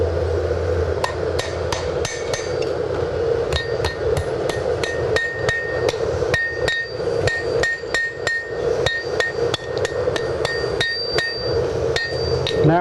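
A blacksmith's hammer rings again and again on hot steel against an anvil while refining the point of a wall hook, a steady run of sharp, close metallic strikes over a constant forge roar.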